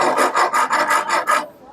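A rasp files wood to smooth a notch: about seven quick, loud, even scraping strokes in steady rhythm, close up, then it stops.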